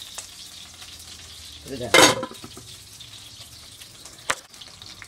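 Gentle steady sizzle of food cooking in a covered pan, with a clatter of pan or lid in the middle and a brief clink later, and a short spoken phrase over it.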